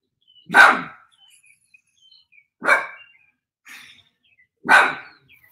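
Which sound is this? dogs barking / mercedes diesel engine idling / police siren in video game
dogs barking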